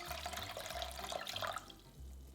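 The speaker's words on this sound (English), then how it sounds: "In a small pot, pour in the coconut water." Coconut water pours into a small pot for a mandarin orange jelly, a faint, close trickle over a low hum that stops partway through.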